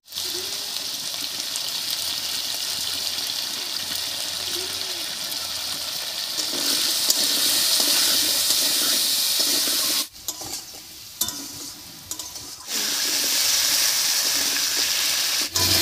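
Potatoes seasoned with salt and turmeric frying in a pan, a loud steady close sizzle that drops away briefly for a couple of seconds and then returns at full strength.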